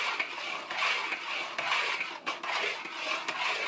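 Red mole sauce being stirred in a pot, a continuous scraping and rasping of a utensil against the pot in rhythmic strokes, fairly close and steady, with no talking.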